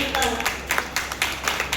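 Scattered clapping from a small group at an Arya Samaj gathering honouring children who recite Vedic mantras, with uneven claps over a steady murmur, near and moderately loud.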